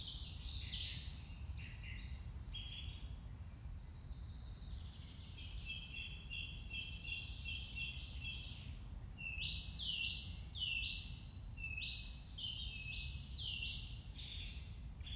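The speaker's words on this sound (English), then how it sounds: "just listen to those birds." Several birds sing in rainy woods in Wales, with repeated high chirps, trills and whistled phrases, some close and some further off. The song grows busier in the second half over a soft, steady background hiss of rain or wind.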